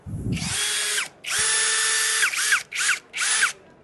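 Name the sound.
Eastman cordless power drill running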